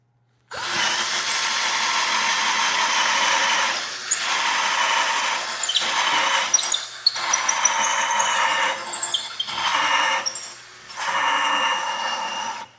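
A budget cordless screwdriver driving a screw, whirring loudly and close in several bursts of a few seconds each, with brief pauses between runs and a high squeal as the bit slips and catches.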